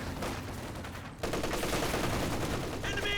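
Rapid MG34 machine gun bursts in the Company of Heroes 2 real-time strategy game, loud and continuous, with a brief dip before the firing resumes denser alongside other battle noise.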